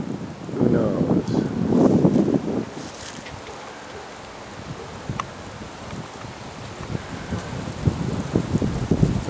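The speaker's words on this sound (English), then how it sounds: "The wind's picking up." Strong wind in a dust storm buffets the microphone in heavy rumbling gusts, loudest early on, then settles into a steady rushing roar with faint rustling and scattered knocks throughout.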